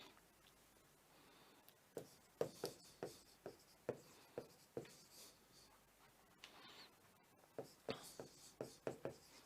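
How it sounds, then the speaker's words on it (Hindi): Writing examples by hand, a quiet close scratching of pen or chalk in short irregular strokes and taps, with pauses between strokes and no speech. "मैं कुछ एग्जाम्पल्स लिख रहा हूं।"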